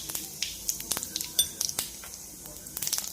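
Cumin seeds hit hot oil with already-popped mustard seeds for a tomato soup tempering, giving a soft crackling sizzle punctuated by sharp clinks of a spoon against the pan.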